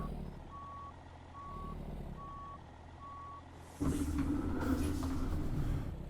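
In the video game American Truck Simulator, a truck's reversing alarm beeps four times at a steady pace over an engine hum, then the engine revs louder and the beeping stops.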